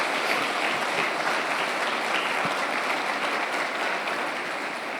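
A church congregation applauds, a dense, steady wash of clapping from a large crowd that holds at an even level throughout without fading.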